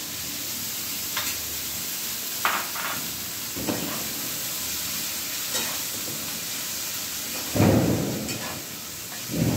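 Potatoes, grated ginger, chopped green chilli and peas frying in a wok, a steady broadband sizzle with intermittent scraping stirs and a louder burst of spatter near the end, no talking.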